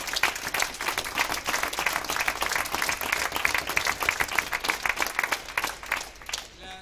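Dense, steady audience applause fills an arena at the final of the Montreal Open squash tournament, a continuous wash of many hands clapping at close range that thins slightly at the very end.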